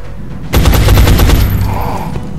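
A rapid, loud burst of automatic fire from soldiers in X-Com: Enemy Unknown rattles for about a second, then decays into a lingering echo and rumble.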